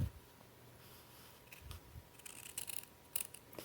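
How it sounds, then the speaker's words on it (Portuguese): Sharp scissors cutting fabric to make a frame for a sewn-in pocket: soft, close snipping, a few quiet cuts followed by a quicker cluster of crisp snips, faint against a quiet room with no speech. "Feito esse corte, você termina então com a tesoura."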